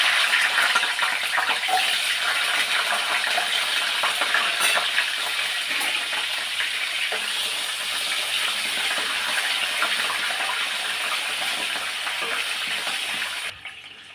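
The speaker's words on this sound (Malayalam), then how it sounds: "അതേ എണ്ണയിൽ തന്നെ നമുക്ക് ചെറിയ ഉള്ളിയില്ലേ അത് ഒന്ന് പൊള്ളിച്ചെടുക്കാം" Small onions fry in oil, a steady close sizzle and crackle running unbroken for about fourteen seconds before cutting off right at the end, with no talking.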